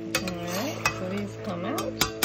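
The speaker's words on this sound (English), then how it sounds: "you just want to stir it till all the sugar has dissolved" A spoon stirs sugar in a cooking pot until it dissolves, giving a few light clinks against the metal over a steady background, with a voice-like tone running beneath.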